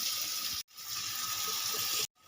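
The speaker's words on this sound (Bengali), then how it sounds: "ভালো করে কষিয়ে নিয়েছি এবারে দিয়ে দেবো জল" Water is poured into a pan of fig and prawn curry, a steady close gush with two brief pauses in the flow.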